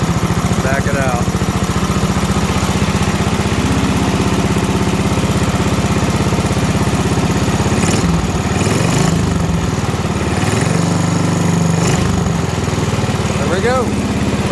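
Wheel Horse RJ58 garden tractor engine running loud and steady while its air-fuel mixture is adjusted, the pitch dipping briefly partway through before settling again, with a few short voice sounds over it.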